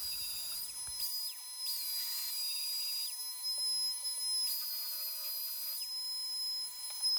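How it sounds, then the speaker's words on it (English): A belt sander smooths the edges of a wooden stair tread, giving a steady high-pitched motor whine with shifting tone as the pressure changes, close and continuous throughout. "Using the belt sander for smoothing edges and surfaces."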